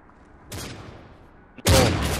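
Gunfire in Call of Duty Modern Warfare 3, a burst at mid-clip followed by a louder, sustained volley near the end, fairly close and with no talk over it.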